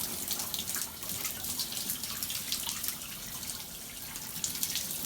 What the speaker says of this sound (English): Water is pooling up. It will not drain.